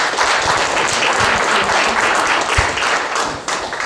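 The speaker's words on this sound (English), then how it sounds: "Let's give him a round of applause." Loud, close audience applause at a book launch, a thick continuous burst of many hands clapping that holds steady throughout.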